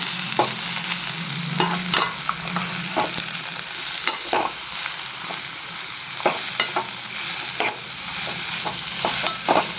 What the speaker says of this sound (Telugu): కొద్దిసేపు వేగనిచ్చి